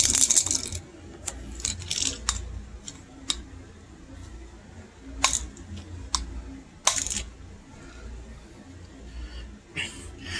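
Small, light rattles and clicks come from inside a 2003 McDonald's Stretch Screamers toy as it is handled. The taps are scattered and irregular, close up and fairly quiet, over a low background hum.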